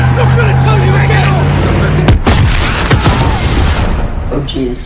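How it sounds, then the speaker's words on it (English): Heavy booms and blasts in the Modern Warfare campaign shooter. A deep engine drone gives way to sharp, loud explosive cracks and rumbling impacts near the middle, with shouted voices mixed in. "Oh jeez, explosions."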